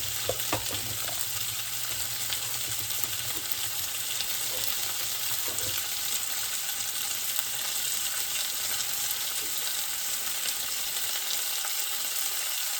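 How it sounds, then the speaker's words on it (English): Real butter sizzles in a frying pan while cooking chicken Kiev, a continuous close crackling hiss with a few light stirring or utensil taps early on. "I think I'll add a pat of butter to that."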